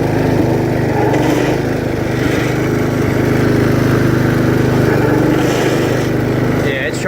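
The engine of a 1968 John Deere 110 garden tractor runs loud and close in reverse, a steady droning rumble with a faint voice in the background.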